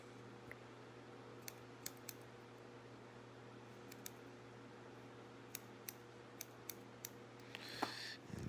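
Quiet, sharp snips of scissors trimming the hair of a wig, scattered irregular clicks over a low steady hum, with a brief rustle near the end.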